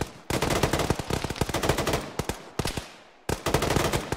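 Automatic gunfire in an Arma military game rattles in fast, loud bursts close by, broken by a few brief pauses before resuming.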